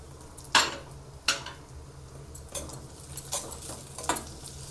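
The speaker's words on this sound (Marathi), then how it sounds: "चांगलं आपण असं परतून घेऊया." Dates and raisins being stirred and sautéed in a pan for a Khajur dry fruit roll, with a few sharp spoon-on-pan scrapes and clinks over a quiet low hum, no talking.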